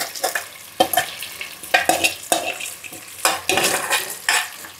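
Onion pieces with ginger-garlic paste sizzle in a frying pan for a Guntur-style curry, and a utensil stirs them in repeated scraping bursts. Close and fairly loud, with no talking.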